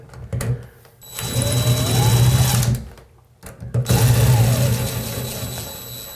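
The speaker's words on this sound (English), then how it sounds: "We want to tighten up our screws." A cordless power driver whirs in two sustained bursts, tightening screws on a plastic bathroom finishing trim kit, with a brief pause between runs and no talking.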